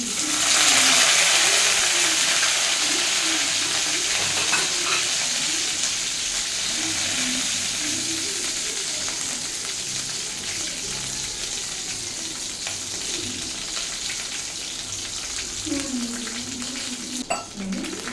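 Curry leaves dropped into hot sesame oil with popped mustard seeds, a loud hissing sizzle that bursts up at first and then settles into a steady crackling fry, with a faint scrape near the end.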